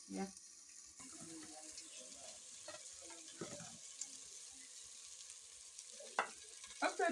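Fish frying in a pan outdoors in an African village kitchen, a soft steady sizzle with occasional stirring and clatter, faint and fairly close, with a few sharper knocks near the end.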